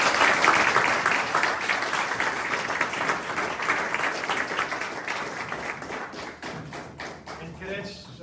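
An audience applauds cadets receiving a prestigious aerospace award at a Civil Air Patrol charter ceremony; dense clapping starts strong and gradually thins and fades, with a few louder thumps near the end.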